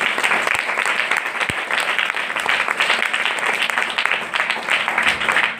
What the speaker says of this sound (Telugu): వాళ్ళకి గట్టిగా క్లాప్స్ కొడతాం.